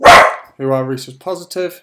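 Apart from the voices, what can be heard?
dog barking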